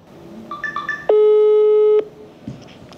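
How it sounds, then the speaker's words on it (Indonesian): A phone call being placed: a few quick electronic dialing beeps, then one long, loud steady tone for about a second, followed by quiet and faint clicks. "Kita coba telepon Bu Popi ya."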